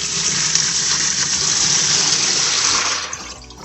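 Water gushing from a faucet into a newly installed laundry tub during a leak test, a loud, steady rushing splash that tapers slightly near the end, with no voices.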